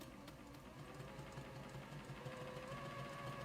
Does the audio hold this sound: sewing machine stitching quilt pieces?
yes